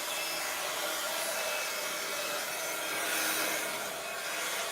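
Heat embossing tool blowing hot air during a clear embossing paper-craft project, a steady loud whooshing hiss lasting throughout without a break.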